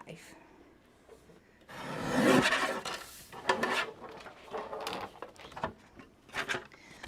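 Card being cut with a scoring tool in a run of rasping, scraping strokes, close and moderately loud after a quiet start, with short pauses and light handling between cuts.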